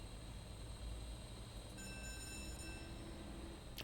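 Gondola cable car departing in the Winter Resort Simulator video game: a steady low mechanical rumble and hum with faint high whines, continuous and even throughout, with no talk.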